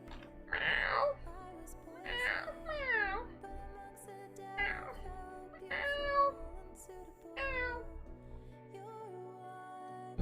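A voice imitates a small cat, giving a series of about six drawn-out, rising and falling meows with short pauses between them, close and moderately loud, during a GeoGuessr game stream.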